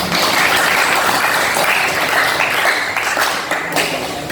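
Steady, dense applause from a seated audience at a teachers' training session, loud and continuous throughout with no talk over it.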